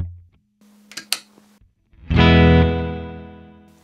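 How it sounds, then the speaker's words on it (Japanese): Electric guitar chord ringing out through a reverb effect switched on from an XSONIC AIRSTEP wireless foot controller, preceded by a few quiet plucked notes, then a loud strummed chord with a long, slowly fading tail. "こちらはリバーブ"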